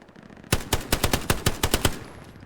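Automatic gunfire in the World War II shooter game Hell Let Loose, about nine loud, evenly spaced shots in a quick burst that then stops, heard alone and close.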